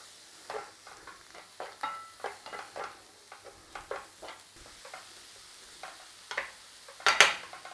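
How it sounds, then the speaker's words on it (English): Garlic and onions are stir-fried in a pan with a soft, low sizzle under intermittent scraping stirs and a few light utensil taps against the pan. "Garlic, onions in. Little stir fry in there."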